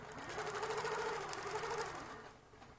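A longarm quilting machine stitches in a steady, moderately quiet whirring run that tapers off toward the end.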